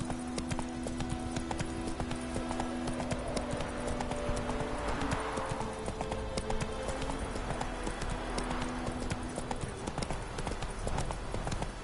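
Horse hooves clip-clop at a galloping pace, steady and close, as the horse Roach runs in the Witcher 3 video game, with faint music tones underneath.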